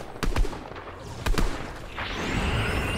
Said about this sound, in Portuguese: tá tomando tiro de cima